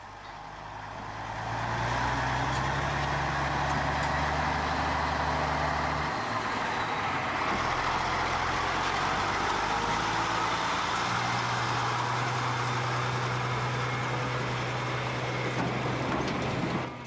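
Cattle trucks idle close by at an outback cattle loading, a continuous deep diesel drone with shifting engine tones that swells in and holds loud and steady throughout.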